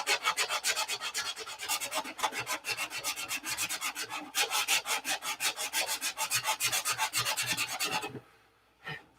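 Sanding filler off an aircraft wing fillet: rapid, even back-and-forth scraping strokes, close and loud, running steadily before stopping, then one last brief rub.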